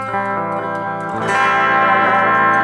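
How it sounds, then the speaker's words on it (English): Guitar through the spring reverb of a Valeton GP-200 processor, sustained chords with a splashy, lingering tail, a second louder strum entering partway and ringing out alone. "the spring reverb has these kind of honky"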